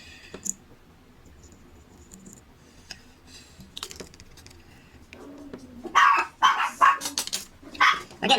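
Dogs on guard indoors bark at a food delivery arrival. After a stretch of quiet clicking and tapping, several loud, close barks burst out in quick succession toward the end.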